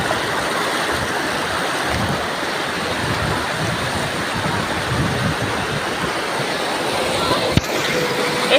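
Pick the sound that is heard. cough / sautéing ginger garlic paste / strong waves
strong waves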